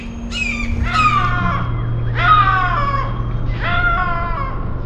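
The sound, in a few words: hawk calling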